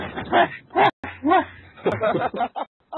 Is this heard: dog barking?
yes